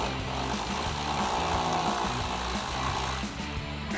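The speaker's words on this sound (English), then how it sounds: "take a 15 millimeter socket for the nut" A 15 mm socket on a powered driver spins off a battery terminal nut on a 2021-2023 Ford F-150 EcoBoost, making a steady, close, rattling buzz that runs for about four seconds.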